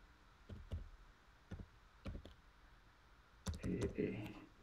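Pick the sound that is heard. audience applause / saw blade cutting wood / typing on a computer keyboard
typing on a computer keyboard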